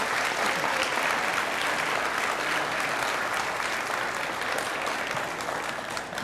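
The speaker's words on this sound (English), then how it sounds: "can we give one last round of applause for our academic team" Sustained applause from an audience at an 8th grade school awards ceremony honoring the academic team, dense and steady clapping throughout, fading slightly toward the end.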